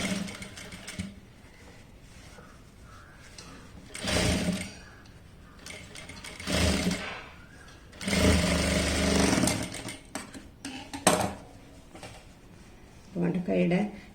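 Sewing machine stitching piping onto the cuff of a puff-sleeve frock, running in several loud bursts of a few seconds each between quieter pauses, with someone talking over parts of it.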